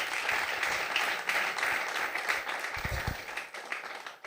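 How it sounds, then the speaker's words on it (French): An audience at a Christian television program applauds and cheers in a steady, dense wash of clapping that continues throughout, with a few faint voices mixed in. "Je ne sais pas si on peut acclamer le Seigneur pour leur présence"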